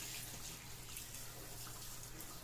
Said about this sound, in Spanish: Le pongo un poquito de agua fría.